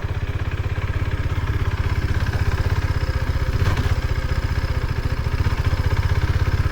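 A 2024 KTM RC390 motorcycle engine runs with a steady, close, pulsing idle-like throb and a slight swell around the middle from a light throttle touch, then settles back to an even rumble with no voices.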